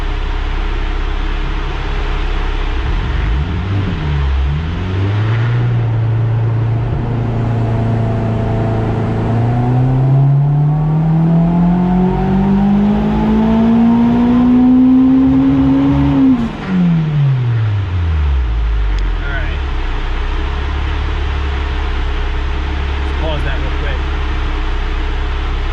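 A turbocharged K24 engine in a Honda Civic runs at wide open throttle, its pitch climbing steadily as VTEC engages. It peaks loud and close, then drops sharply as the throttle lifts and settles back to a low drone, with voices underneath.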